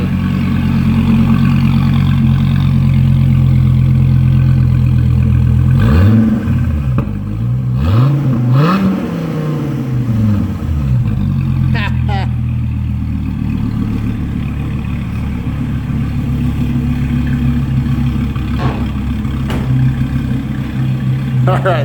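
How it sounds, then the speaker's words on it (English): 2015 Dodge Viper T/A 2.0 engine idles with a deep steady rumble throughout, rising through a few revving swells early on, while someone talks over it. "There's a Dodge Viper"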